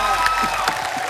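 A studio audience at a comedy show applauds and cheers for a singer with brisk, continuous clapping and a few whoops, close and fairly loud.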